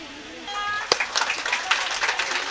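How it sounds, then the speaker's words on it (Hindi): Audience applause breaks out at a women's day felicitation and prize ceremony, rising after a sharp clap into a dense, sustained patter of many hands, following a brief spoken announcement. "आपकी तालियां इनका हौसला अफजाई करेंगी।"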